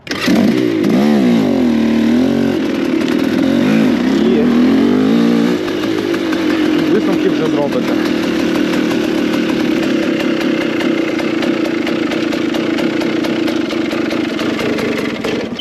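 A KOVI 300 PRO 2T two-stroke motorcycle engine is heard close up while riding, loud and buzzing, rising and falling through revs at first, then settling into a steady high drone.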